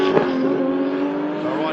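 An Extreme GTR race car at a time attack event, its engine note dropping as it gears down, a loud steady harmonic drone that runs continuously with slight pitch shifts.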